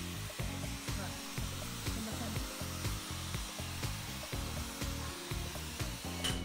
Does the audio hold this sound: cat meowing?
no